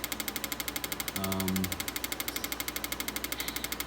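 An Autool CT200 injector tester running an idle test on fuel injectors from a four-cylinder Ford Ranger, a rapid, even mechanical ticking close up, with a short tonal hum in the middle.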